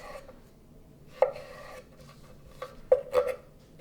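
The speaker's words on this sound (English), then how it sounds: "we cut the same all the zucchini cube, just like that" A knife chops zucchini into cubes on a cutting board, with several crisp, close chops spaced irregularly against a quiet background and no talking.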